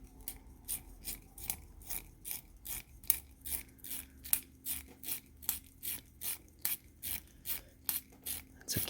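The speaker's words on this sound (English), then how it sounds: "Let's sharpen one and give it a try. I'll use the included sharpener," A Reynolds Energi pencil being turned in its included handheld sharpener over paper, making a steady series of about twenty crisp, scraping cuts in an even rhythm, close and clear.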